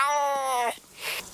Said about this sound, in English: My cat. That's not my cat.